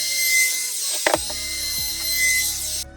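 Cut edges of a wooden cat scratching post being chamfered: a steady, close, bright grinding whir with a sharp knock near the middle, running alone until it cuts off abruptly just before the end.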